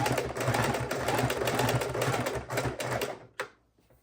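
Sewing machine stitching binding onto a Christmas quilt, a fast continuous needle rattle up close that slows and stops near the end, followed by a single faint click.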